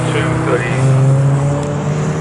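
A BMW race car in a 750MC Roadsports race at Snetterton passes on track, a steady loud engine drone with a slight pitch shift as it goes by, under continuous commentary.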